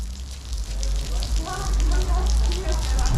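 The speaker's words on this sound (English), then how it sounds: "look at the rain now" Heavy rain pours in a Transylvanian city, a dense, loud hiss of water beating down with a deep rumble underneath, continuous from start to finish.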